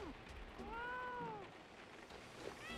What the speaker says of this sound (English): That's some cats that definitely got yeeted.